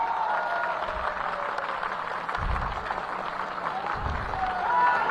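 Crowd at an election rally clapping steadily, a dense sustained wash of applause at moderate distance, with low thumps and some indistinct voices mixed in.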